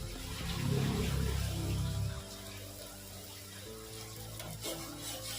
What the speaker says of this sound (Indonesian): Ya, ini seperti ini aja, asal hangat aja sambil diaduk-aduk begitu.